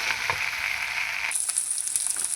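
Peanuts sizzling and frying in a hot pan, a steady bright crackle that shifts to a higher hiss partway through, with occasional stirring and no talk.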